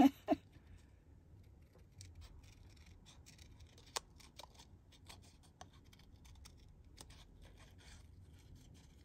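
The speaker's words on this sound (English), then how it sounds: "Let's cut him out first." Small scissors snip out a paper pig for a folded card, producing quiet, close, irregular snipping and rustling of paper with occasional sharper clicks of the blades over a soft, hushed background.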